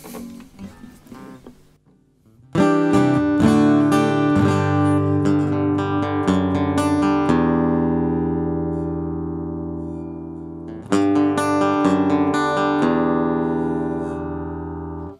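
An electric guitar sounds through a Laney LX15 combo amplifier with the bass turned up. A brief quiet pause gives way to loud, full strummed chords that ring out and decay, then a second strum near the end.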